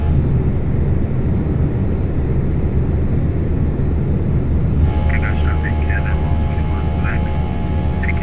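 Steady broadband roar of Airbus A319 engines at climb thrust, heard from the cockpit on a departure from Las Vegas bound for San Diego, continuous and loud, with voices talking over it.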